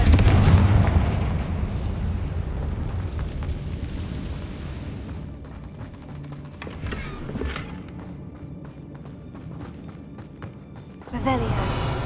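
Confringo fire spell blasts in the Hogwarts Legacy video game, a heavy booming explosion at the start followed by rumbling fiery crackle and a later sharper burst, with game effects continuing underneath.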